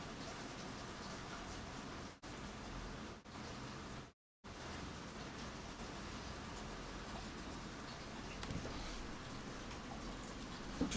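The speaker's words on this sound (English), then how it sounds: "it's raining a lot here" Heavy rain falling steadily outside during summer in Brazil, a dense continuous patter with two brief near-silent breaks early on, then unbroken to the end.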